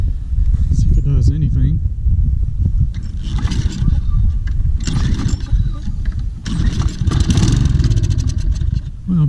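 A Toro Personal Pace Recycler self-propelled lawn mower with a clogged carburetor sputters and briefly catches on carburetor cleaner in a few rough bursts, close by, with a person talking throughout.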